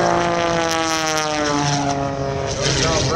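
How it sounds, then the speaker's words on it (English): A propeller aerobatic airplane rolls rapidly at the 2013 Vero Beach air show, its engine a loud, steady, close drone with slight pitch shifts through the maneuver. "That roll rate of that airplane is in excess of 400 degrees per second."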